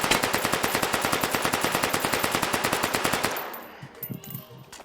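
An SMG in the VR shooting game H3VR fires a sustained full-auto burst. Rapid, evenly spaced shots hammer out for over three seconds and then stop, followed by a few faint mechanical clicks.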